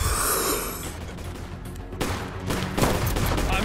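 Bursts of video game gunfire crackle loud and close, with a dense rattle at the start and sharper shots near the end, and no voices over them.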